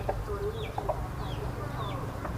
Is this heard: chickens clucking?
yes